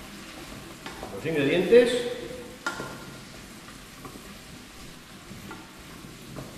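Pumpkin and monkfish soup ingredients sautéing in a Magefesa pan, a soft sizzle with stirring that swells briefly and then settles to a low steady hiss beneath a person talking.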